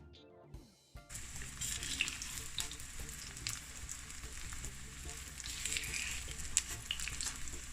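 Plantains fry in a mix of olive and canola oil, giving a steady close crackle and sizzle that runs throughout after a brief handling noise at the start, with no one speaking.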